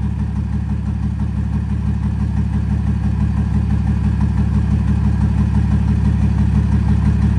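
Close and loud, a tuned 509 hp 2005 Ford F250 XLT idles through a straight 4-inch exhaust with a 5-inch angled tip, its deep, even rumble pulsing choppily and steadily with no voices.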